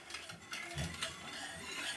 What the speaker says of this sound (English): Give our gravy a little stir here.